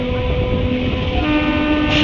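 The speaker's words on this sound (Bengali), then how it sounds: "সরে যাবেন ট্রেন আসবে।" A train rumbles steadily past at close range with a sustained horn tone, loud and continuous, with no voices.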